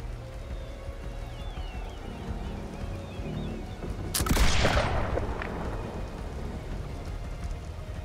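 Heavy ship cannon blasts boom out in Blackwake, a burst of loud concussive firing near the middle over a steady rumble of wind and sea, with no other sounds standing out.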